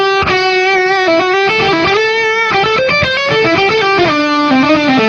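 An electric guitar plays a continuous melodic line through the distortion of a T.C. Electronic Nova System effects processor, loud and sustained, with bright harmonic-rich notes shifting pitch throughout and no talking.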